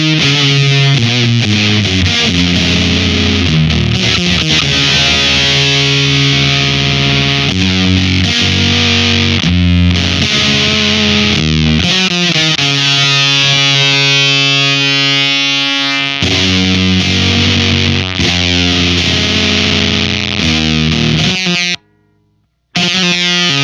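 Whimsy Machines Short Stack distortion pedal with its bias knob at noon, driving a loud, fuzzy, saturated guitar tone that plays continuously with sustained chords and notes, then cuts to a brief silence near the end.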